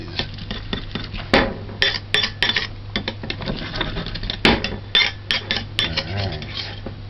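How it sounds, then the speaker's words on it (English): Garlic being smashed and mashed to pieces for a veggie chunks rendang, heard as a series of sharp, close knocks and clatters of kitchen tools in an irregular rhythm, with brief speech in between. "the garlic, mash it up, smash it"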